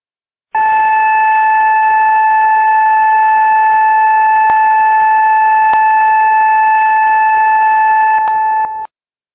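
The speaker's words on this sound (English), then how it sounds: "BZ1 is a dual tone buzzer and sounds at both stations when the train enters into the block section" A train block instrument's dual-tone buzzer sounds continuously at a steady level for about eight seconds, a harsh electronic drone with a few brief clicks, then cuts off abruptly.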